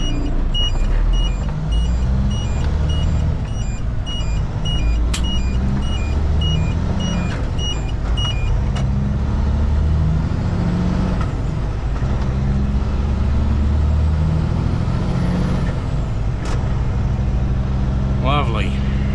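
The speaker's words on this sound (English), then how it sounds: "Oh my god, what's with all the traffic?" Steady road traffic with cars and trucks rolling past, heard from inside a cattle road train hauling a 72-tonne load around Hedland, a low continuous engine and road roar with occasional passing vehicles, and a voice talking over it.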